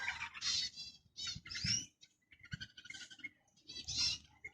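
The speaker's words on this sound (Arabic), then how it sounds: "شوف طيور أليفة" Bulbuls in an aviary giving bright, rapid chirps and warbling calls in several short bursts separated by brief pauses, close and clear against a quiet background.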